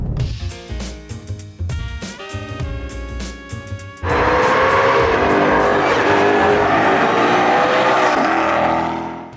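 A 2020 Ford Mustang Shelby GT500 being driven: a few seconds of tonal, music-like sound, then a loud, dense, steady engine roar that holds to the end.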